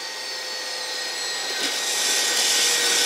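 Twin jet engines of a Learjet 40 idling after landing, a broad steady roar with a faint high whine that swells slightly toward the end. No one speaks.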